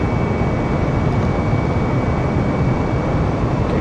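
Boeing 737-800 jet taking off in Microsoft Flight Simulator, a steady loud engine roar with broadband rumble and a faint high whine, constant throughout with no talking.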